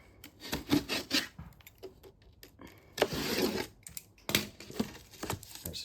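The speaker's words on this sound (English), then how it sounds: "It's as simple as that for cutting a piece of plasterboard." Utility knife scoring plasterboard against a straight edge, a series of close, dry scraping rasps in short bursts with gaps between them.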